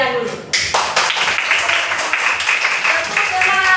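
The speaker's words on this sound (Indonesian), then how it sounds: "Nah, tepuk tangan buat anak-anak kami sekalian dulu." Schoolchildren in a classroom clap together in a dense burst of applause that continues steadily throughout, fairly loud and close.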